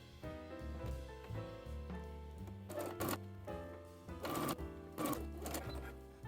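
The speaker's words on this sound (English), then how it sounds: "Then sew together slowly, ensuring that all 4 layers are aligned." A sewing machine runs slowly, stitching through four aligned fabric layers of a faux-shirred dress back bodice, its whirring buzz bursting in short runs over soft background music.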